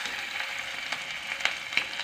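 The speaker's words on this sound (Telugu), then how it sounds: "చేసింది మొత్తం చిన్న చిన్న బాల్స్ లాగా చేసేసుకొని ఆయిల్లో వేసేసుకుందాం" Small fish roe fritter balls fry in hot oil with a constant bright sizzle and a few sharper pops near the end, close up, with no voices.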